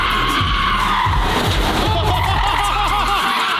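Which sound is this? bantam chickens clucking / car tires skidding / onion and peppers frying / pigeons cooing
car tires skidding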